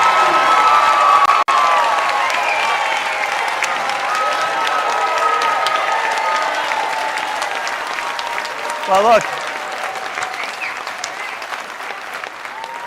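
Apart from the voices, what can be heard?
crowd applauding and cheering at a town hall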